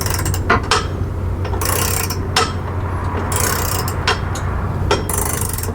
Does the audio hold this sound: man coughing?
no